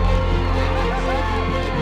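A loud crowd cheers at a women's game for the Lady Red Warriors, a dense steady roar of voices close by with a low rumble underneath.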